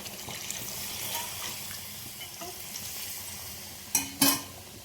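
Onion and garlic paste sizzles and is stirred in a pan, with a low steady crackle and two sharp bursts of louder hissing near the end as water is poured in.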